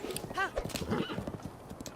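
A horse in Zelda: Breath of the Wild clip-clops and lets out a short whinny, close and brief, with game sounds around it.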